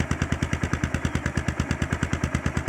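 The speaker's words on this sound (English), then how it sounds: "we've got the engine started up and sitting here idling." Motorcycle engine with a big carburetor idling after a fresh exhaust change and air-fuel tuning, a steady, even lumpy thump repeating rapidly with a clattery top end, close and alone.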